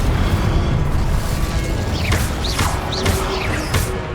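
A fire spell bursts in the Hogwarts Legacy video game, a loud rushing roar of flame with a few whooshing and crackling magical flourishes, steady and close, with no voices.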